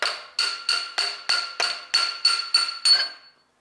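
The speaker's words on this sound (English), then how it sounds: "Maybe this hammering." Nine sharp metallic hammer blows on the camshaft of a 1.8-litre Honda Civic engine during disassembly land in a steady, even rhythm up close, each ringing briefly before the next strike.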